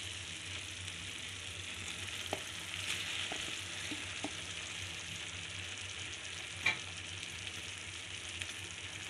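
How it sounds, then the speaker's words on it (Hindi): Paneer frying with spices in oil in a pan for a dhaba-style paneer sabji, a steady, fairly soft sizzle that runs throughout with a few light clicks and knocks and no talk. "अब हम इसमें पनीर डालेंगे।"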